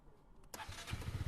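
A 2021 second-hand motorcycle's engine catches after a brief crank and settles into a low, throbbing idle with a pulsing rhythm. It sounds close by, with no one speaking.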